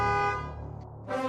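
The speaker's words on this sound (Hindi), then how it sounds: "तभी पीछे से एक कार आलिया को हॉर्न देती है।" A car horn honks twice, close and loud, with a short pause between the blasts.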